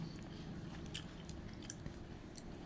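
Soft crunchy chewing of rice with dried fish curry, close and quiet, with faint bites and mouth sounds over a low background hum.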